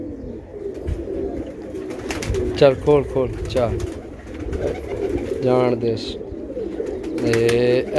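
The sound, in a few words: pigeons cooing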